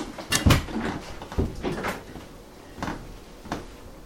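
Doors being closed in a room, a series of sharp wooden knocks and thuds spread over a few seconds, close and moderately loud, with quieter handling sounds between them.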